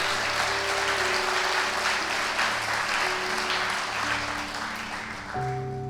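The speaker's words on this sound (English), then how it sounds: "give him a round of applause" Audience at a motivational speaking event in Sudbury, Ontario breaks into sustained, dense applause that holds steady throughout and stays loud from start to finish, with a faint tonal hum running beneath the clapping.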